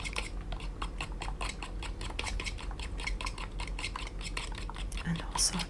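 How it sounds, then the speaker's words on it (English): Eggs being whisked in a bowl with a utensil, a fast steady run of close, crisp metallic clicks and taps against the bowl, loud and continuous. "So I'm going for mixing up some eggs"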